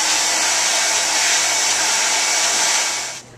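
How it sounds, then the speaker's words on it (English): Hair dryer blow-drying a man's hair back and neat for an interview style, a loud steady high whoosh that runs unbroken, then cuts off at the end, with no talk. "Ask if he favors the side, and pick which way to go, and blow dry in that direction."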